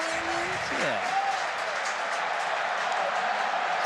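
A football stadium crowd at Arsenal against Wolves swells in a broad, steady roar of cheers and applause, responding to Bukayo Saka's cheerleading from the far corner, with a brief whistle-like tone near the start.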